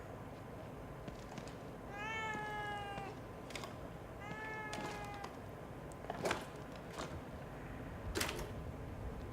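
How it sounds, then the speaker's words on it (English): A cat meows twice inside the horror game The Evil Within 2, each drawn-out, wavering cry clear over a low ambient hum, followed by a couple of sharp knocks. "What's the deal with the fucking cat?"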